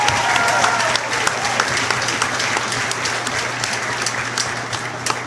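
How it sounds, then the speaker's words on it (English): Crowd in a steer show ring at a county livestock show breaks into a loud, sustained round of applause, dense clapping continuing steadily from start to finish with a low hum beneath. "will you give him a nice big round of applause"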